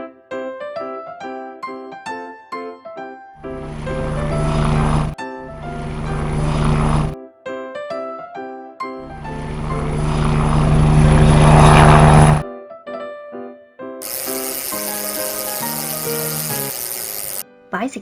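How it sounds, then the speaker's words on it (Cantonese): A toy helicopter whirs loudly in two long bursts and then gives a thinner hiss, all over steady background music. "helicopter"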